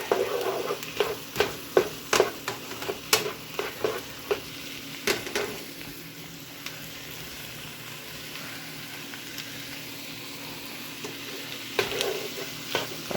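Chicken stir-fries in a pan with a soft, steady sizzle, and a utensil scrapes and clacks against the pan in a quick series of knocks. The stirring thins out midway while the frying hiss carries on.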